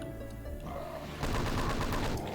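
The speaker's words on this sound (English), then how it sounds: "What I like to do here is just go ahead and snipe them off with the chain gun." A chain gun fires at imps in Doom 2, first a few spaced shots under background music, then a rapid, loud, continuous burst of close gunfire.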